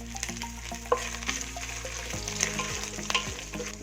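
Pieces of coconut dropped into hot coconut oil after mustard seeds have popped, crackling and sizzling close up with sharp pops and a few spoon scrapes, no voices.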